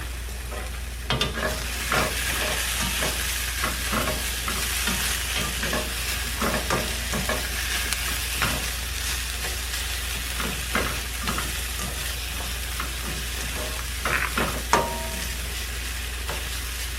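Cabbage frying in a pan, a constant close sizzle with repeated sharp scrapes and clanks of stirring at an uneven pace, no voices.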